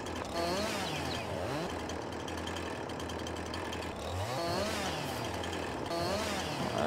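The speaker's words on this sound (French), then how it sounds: "sortir la tronçonneuse." A chainsaw cuts branches in the Farming Simulator 22 video game, its motor droning steadily and close for the whole stretch, with pitch rising in repeated revving swells as the blade bites.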